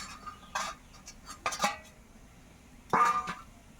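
A metal lid comes off a cooking pan of jackfruit puli pitha, giving a few faint clinks and scrapes that end in a sharper metallic clatter in an otherwise quiet kitchen.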